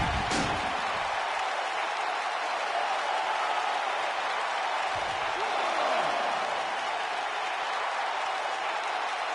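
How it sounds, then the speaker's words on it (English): A dense, steady roar of an arena crowd cheering at a SmackDown wrestling show in a video game, continuous and fairly loud throughout, with a few brief sharper accents. "Another electric crowd on hand here for SmackDown, as has been the norm over the years"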